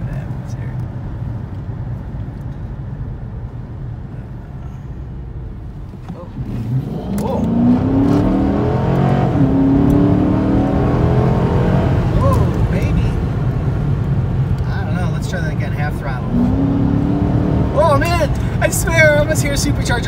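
A 2015 Dodge Challenger Hemi Shaker engine with a Sprint Booster revs up and holds a rising whirring drone, close by, with voices talking over it.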